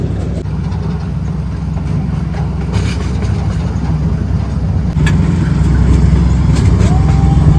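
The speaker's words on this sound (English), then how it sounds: "A little train ride up in the hills." Small passenger train ride up through the hills at an apple ranch, a continuous rumbling engine and clattering wheels close by, growing slightly louder partway through, with no talk.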